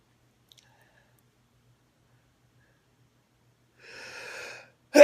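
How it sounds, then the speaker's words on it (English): Two quick sneezes from a person with a slight cold late at night, a soft breathy burst followed closely by a sharper, louder one right at the end, after near silence. "Yeah, I sneeze in twos."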